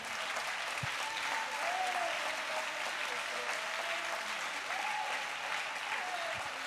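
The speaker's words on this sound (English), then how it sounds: "Somebody clap your hands unto the Lord." Church congregation clapping hands together, dense and continuous, with a raised voice calling out over the clapping and some sung or held tones drifting underneath.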